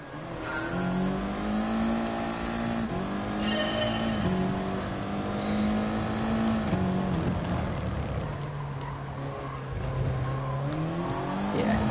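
A race car engine in a racing video game at Brands Hatch holds a loud, steady howl, its pitch dropping and climbing with gear changes and throttle shifts throughout the lap.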